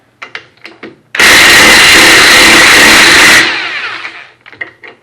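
A power tool spins a nut off the rear hub of a 1957 Dodge Crusader, a loud steady whir of roughly two seconds that cuts in sharply and winds down, with a few tool clanks before and after.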